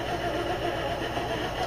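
An electric mixer beating yellow cake batter, a constant close motor whir with a steady churning texture throughout, no voices.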